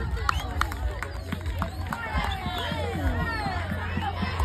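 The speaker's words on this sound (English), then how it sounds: "Round of applause, children." Children in the crowd at a junior rugby season-finals prize-giving at a public school clap and cheer in a lively, continuous outdoor hubbub with scattered shouts and chatter.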